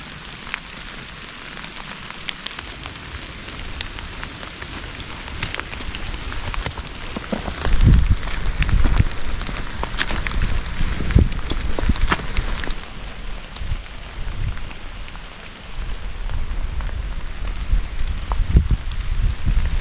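Steady rain patters on a tarp and surrounding ground at a morning camp on the Appalachian Trail, with irregular heavier drips and thumps close by, continuous and fairly loud with no voices.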